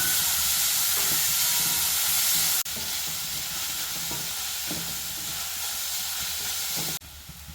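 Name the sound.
chopped onions frying in hot oil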